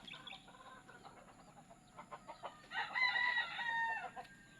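A pet rooster clucks in short bursts, then lets out a louder crow near the middle, moderately close with a quiet background and no talking.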